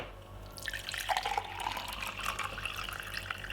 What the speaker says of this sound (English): Pour it into a glass like this.